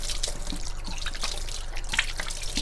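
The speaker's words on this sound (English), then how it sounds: "Just wash my hands again." Tap water runs steadily into a sink during handwashing in a home kitchen, a close, continuous splashing with small drips and clinks.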